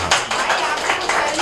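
An audience at a Mumbai mushaira claps to welcome a poet, a brief burst of dense, continuous handclaps filling the short moment with no pause.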